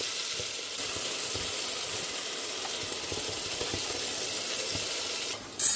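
Cumin seeds, bay leaves and ground spices sizzle steadily in hot oil, a loud, continuous frying hiss with small crackles, ending with a brief louder burst.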